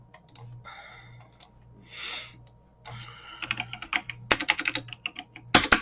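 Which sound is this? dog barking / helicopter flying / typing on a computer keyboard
typing on a computer keyboard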